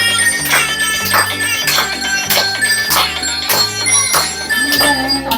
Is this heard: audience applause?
no